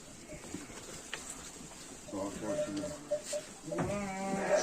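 Young lambs bleat in a village pen, several short calls toward the end over low background noise, while people talk around them.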